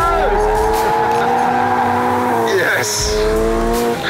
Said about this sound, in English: I just can't believe how pointed this car is. And how controllable on the throttle it is.